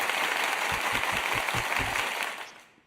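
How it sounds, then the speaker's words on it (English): Audience applause at the KubeCon 2025 tech conference, a loud, dense burst of clapping with some louder close claps, tapering off toward the end. "So now is the time for big applause"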